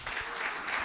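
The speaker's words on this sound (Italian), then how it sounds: "Vorrei qua, con un grande applauso, Alex Angiolini" A studio audience on an Italian TV wellness show applauds in a brief, steady burst of clapping, moderately loud and unaccompanied by speech.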